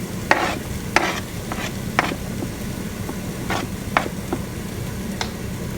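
Carrots are stirred into a bolognese sauce in a pan, with a series of sharp spoon scrapes and knocks at an irregular rhythm over a low, steady simmer.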